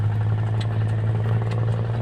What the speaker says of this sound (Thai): ตอนนี้ก็ใช้รถไถดึงช่วยย้ำทางก่อน